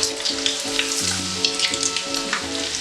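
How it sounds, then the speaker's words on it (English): Anchovies and nuts frying in hot oil, a dense steady sizzle and crackle throughout, close by, with no talking. "I'm going to fry all the anchovies and the nuts."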